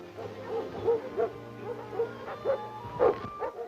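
Nervous dog inside a kennel at a military sentry dog training center, barking in a steady run of short, sharp yips and barks, fairly close, with no talk over it.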